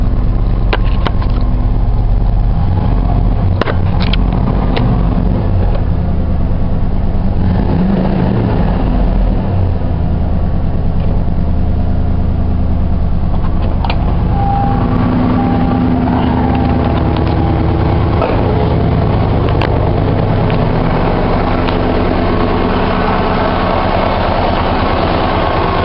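A 1989 Ford F-150 pickup with 85,000 miles idles up close, a loud steady low engine rumble with a slight rough pulse that runs unbroken for about 26 seconds.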